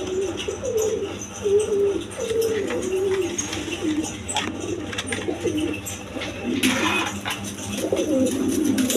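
Rajgolla pigeons coo in a repeated, low, rolling pattern close by, mixed with steady background noise from the flock.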